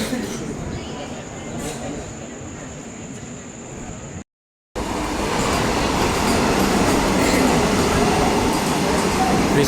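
Nagarsol Express passenger train pulling out of Charlapalli and running, a steady loud rumble of wheels on rails heard from inside the coach, broken by a brief gap and then rising, with a voice talking over it.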